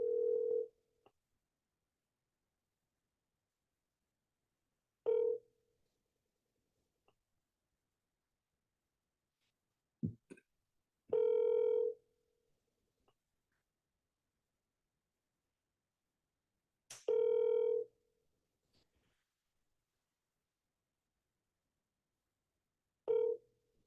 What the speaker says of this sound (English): obviously this lady's not answering the phone